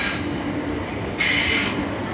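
British Rail Class 376 electric unit 376 001 at London Bridge, a steady near rumble of a train on the move with a brief brighter rise partway through, no talk.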